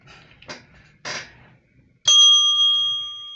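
A bell sound effect rings once with a bright, sustained ding that slowly fades, preceded by a few soft knocks and rustles.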